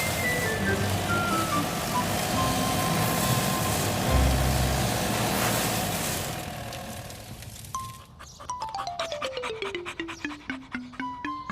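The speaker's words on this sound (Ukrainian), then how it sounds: "Бульдозер. Прорий траншею, щоб інші дерева не спалахнули." A cartoon bulldozer rumbles and grinds as it cuts a firebreak trench, its engine loud and continuous, then gives way to a steady series of sharp reversing beeps alongside a descending tone.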